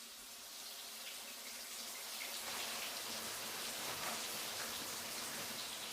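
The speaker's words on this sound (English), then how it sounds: "I'm taking a shower." A running shower sends a steady, broad hiss of falling water that spatters continuously and grows slightly louder partway through, heard alone without voices.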